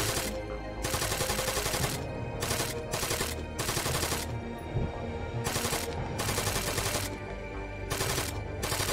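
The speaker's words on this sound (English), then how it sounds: "You're shooting in a general direction." Sustained bursts of automatic rifle fire in an Arma 3 long-range firefight, loud rattling strings of shots separated by short pauses, with no talking.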